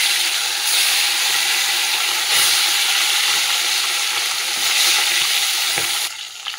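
Fish pieces drop into hot oil in a home kitchen and fry with a loud, steady sizzle and hiss, close by with brief surges of spattering, no talk.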